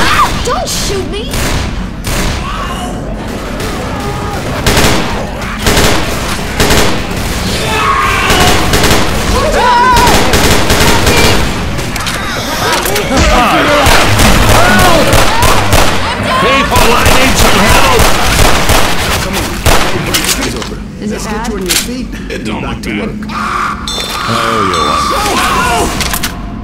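Modded Left 4 Dead 2 gameplay is loud with dense, continuous gunfire: rapid cracking bursts and thumping booms that overlap throughout, with voices occasionally heard under the shooting.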